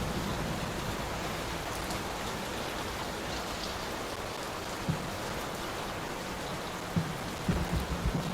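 Steady, dense rain falls in the horror video game Layers of Fear 3, a continuous even patter with occasional soft thumps and drips toward the end.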